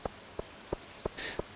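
Rain falls in the farming video game Stardew Valley, a soft steady patter under evenly spaced droplet ticks about three per second, with a brief brighter hiss near the end; no one speaks.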